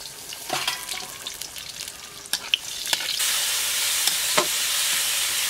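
Bay leaf, dried chilli and panch phoron sizzle in hot oil with a bright, steady crackle, broken by a few clinks and stirring sounds and growing louder partway through.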